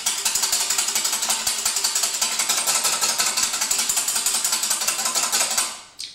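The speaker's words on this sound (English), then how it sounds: "You just want to whisk your whites" Egg whites are whisked briskly in a bowl for matzah balls, a fast regular rattling beat of the whisk against the bowl, steady and close, stopping abruptly at the end with no talking.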